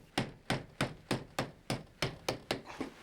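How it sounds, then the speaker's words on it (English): Sharp hammer blows drive a chisel into wood to remove material from window side trim up to a cut line, about ten evenly spaced, close, loud strikes in a steady rhythm. "I'll use a chisel to remove material up to the cut line"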